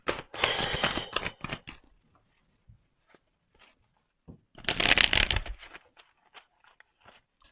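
Tarot cards being shuffled in two bursts of rapid riffling, the first about two seconds long and the second shorter, separated by quiet with scattered soft card taps. The sound is close and fairly loud, with no voices.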